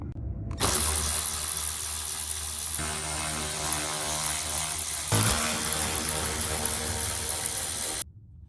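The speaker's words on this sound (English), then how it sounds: "let's go ahead and get those 8 Torx removed" A power driver spins out Torx screws from the TCM cover of a 6th-gen Camaro SS, giving a close, continuous motor whir for about seven seconds, with a brief change in pitch partway through before it stops.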